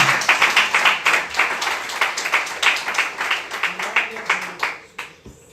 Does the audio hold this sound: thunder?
no